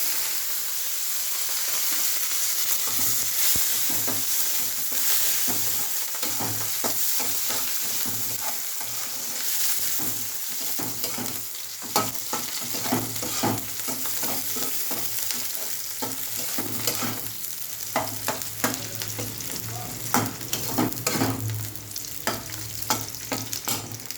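Whole white cumin seeds sizzle in hot oil in a kadai, a steady, close crackling hiss that lasts throughout, with the scrape and clink of stirring breaking in repeatedly.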